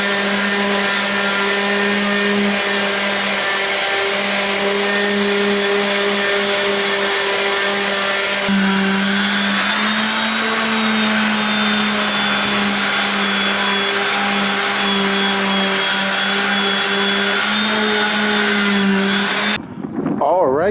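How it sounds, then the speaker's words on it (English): Steady electric sander whirring continuously on car engine bay paint of a $400 Civic hatchback, a close, loud drone with a constant hum that holds for about twenty seconds before cutting off abruptly. "I started sanding this area"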